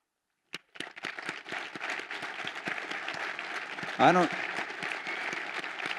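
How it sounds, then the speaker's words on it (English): An audience at a talk for student veterans breaks into applause after a brief silence, the clapping quickly building to a full, steady round with a short louder burst partway through. "ask you all to join me in a round of applause for them"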